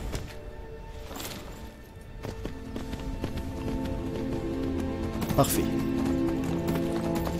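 Horse hooves in Skyrim clip-clop in a running rhythm under a man's speech, with a tonal game score and a brief bright accent near the end.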